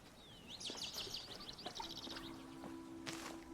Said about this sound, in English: These bird sounds are so nice.